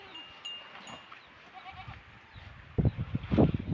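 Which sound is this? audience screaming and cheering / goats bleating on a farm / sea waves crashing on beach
goats bleating on a farm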